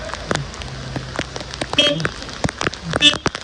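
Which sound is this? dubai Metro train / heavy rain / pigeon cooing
heavy rain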